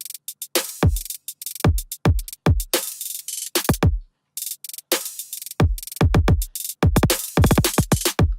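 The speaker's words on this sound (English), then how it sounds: "So here's the beat with the new hi-hats." Trap beat programmed in FL Studio with a newly added hi-hat pattern, punchy kicks with booming low tails and rapid ticking hats in a steady groove, including a brief drop-out around the middle, no voices.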